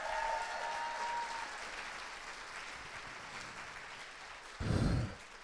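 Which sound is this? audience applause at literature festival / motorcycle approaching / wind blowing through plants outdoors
audience applause at literature festival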